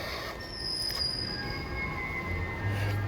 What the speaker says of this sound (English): That's what the train is right down there.